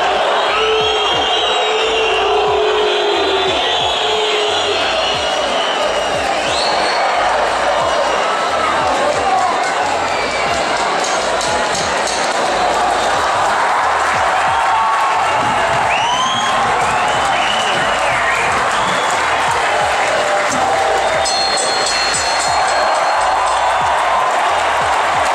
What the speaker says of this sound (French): Sifflets, applaudissements, cris, une ovation assourdissante pour Marcos Maidana